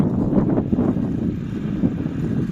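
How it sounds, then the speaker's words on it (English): Steady low wind rumbles and buffets against the microphone throughout, with no voices, just a constant dull roar. "I think it's sounding so windy."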